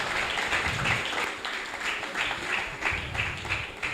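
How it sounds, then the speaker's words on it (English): A conference audience applauds a professor after a lecture, a dense, steady patter of clapping from a large room that carries on evenly for a few seconds. "Let's clap again for our prof."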